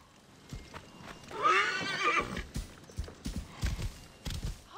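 In Assassin's Creed Origins, a horse whinnies loudly up close, followed by clopping hooves at a gallop and some faint mechanical clatter, with no talk.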